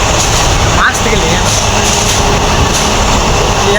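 A passenger train arriving at a station on the Bagalkot to Hubballi line, heard as a steady, close broadband rumble and rush of noise that lasts throughout, with people talking over it.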